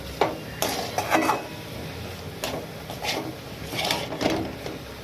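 A spoon scrapes and clinks against a pan while stirring bitter gourd and potato chorchori, several irregular metallic taps and scrapes close by, with no talking.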